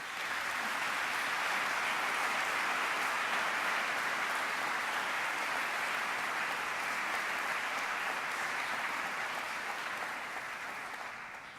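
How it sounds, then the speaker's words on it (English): A graduation audience gives teachers long, steady applause, a dense even wash of clapping that holds at full strength for several seconds before easing off slightly at the end. "Please join me in celebrating these special and highly esteemed individuals with a round"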